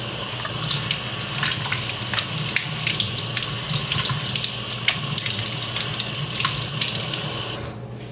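A baby teether rinsed under a running tap, a steady loud gush of water splashing into a sink that runs without pause, then cuts off abruptly at the very end.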